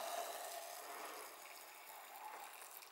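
A short, steady pour of boiled water splashing and hissing into flour in a container, close by and moderately quiet.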